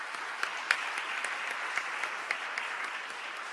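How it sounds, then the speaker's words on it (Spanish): Audience applause at a seminar on municipal reform, greeting an undersecretary: a moderate room of listeners clapping steadily, somewhat distant, with a few sharper individual claps standing out. "demos un aplauso de saludo"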